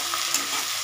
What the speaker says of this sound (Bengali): এবার আদা দিয়েছি, এবার এটা মিশিয়ে রেখেছি।